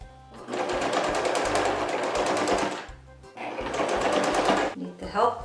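A sewing machine stitches a rug made from old clothes, running in two loud, close bursts of rapid needle clatter separated by a short pause, with a voice speaking around the stitching.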